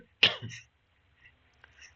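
One sharp, close cough bursts out, followed by a brief throaty rasp, then near silence.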